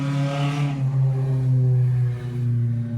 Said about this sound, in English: very loud car going by.